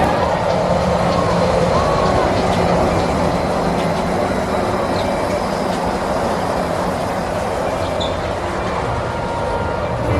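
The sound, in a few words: Disneyland parking tram, a road train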